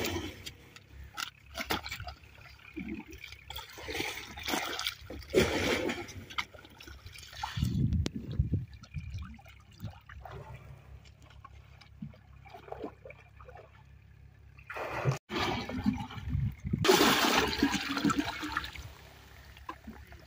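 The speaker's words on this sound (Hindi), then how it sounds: "आ देखो जिहड़ी दवाई मिक्स की इस पानी च सारी इधर मिक्स हो रही खाले दे विच" Water mixed with fertiliser pours and trickles into an irrigation channel on a Punjabi farm, soft gurgling and splashing with louder surging rushes near the middle and end, moderately close.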